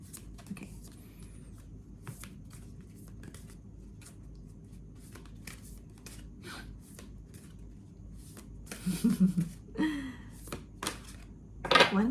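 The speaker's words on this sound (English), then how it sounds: "the cards are shuffling." Tarot cards are shuffled in soft, irregular bursts of papery riffling and tapping, quiet and close, building into a louder flurry of rapid card slaps near the end, with no talking.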